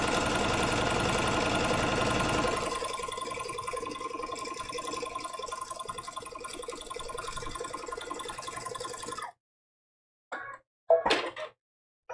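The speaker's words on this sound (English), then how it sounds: "I don't know if you can hear it, but I have an exhaust fan." A steady mechanical hum and whir runs continuously for several seconds like a running exhaust fan, then cuts off abruptly, followed by a few brief knocks.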